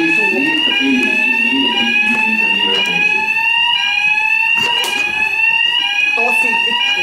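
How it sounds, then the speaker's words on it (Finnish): Hotel fire alarm in Turku ringing loudly and continuously, a steady piercing electronic tone with overtones sounding throughout, with voices and scattered knocks underneath. "ollaan Turussa ja hotellissa soi hälytyskellot."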